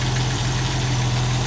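Older car engine with a homemade PCV catch can idling roughly and slightly missing, a steady close low hum and rumble with faint uneven vibration and no voices.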